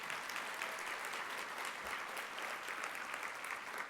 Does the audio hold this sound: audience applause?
yes